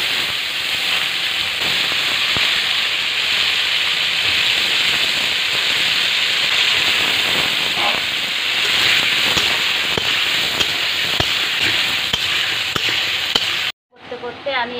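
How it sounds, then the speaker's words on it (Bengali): Brinjal and potatoes fry in oil left over from frying hilsa fish, giving a loud, continuous close-up sizzling hiss with scattered crackles that cuts off abruptly near the end. "ওই মাছের তেলে এবার বেগুন আলুগুলো দিয়ে আমি ভাজা করে নেব।"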